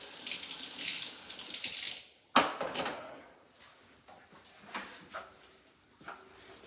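Tap water running through a detached sprayer part at a sink, a steady rushing spray at first, then a sharp clatter followed by scattered clinks, drips and handling noises close by.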